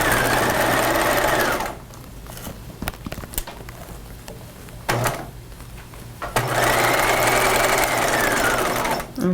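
Domestic sewing machine stitching a seam through thick fur fabric on a retro coat, two loud close bursts of rapid whirring stitches separated by a pause with small handling clicks and a short whir.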